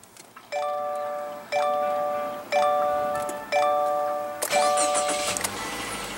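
2016 Subaru Outback with a 2.5-liter four-cylinder and push-button ignition: four chimes ring in a steady rhythm, then the engine cranks and catches with a brief noisy burst settling into a low idle.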